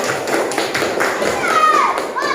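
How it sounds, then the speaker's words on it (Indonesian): A classroom of children applauding their classmates for a clean room, with quick, rhythmic claps close by and some voices and squeals mixed in. "kita berikan aplaus untuk yang punya pinjat hari ini karena kelasnya bersih"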